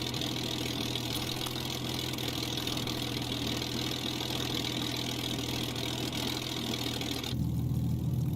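Supermarine Spitfire Mk1a in Microsoft Flight Simulator, heard from inside the cockpit while idling on the ground: a steady, loud low engine drone with a rough, even texture throughout, deepening slightly near the end.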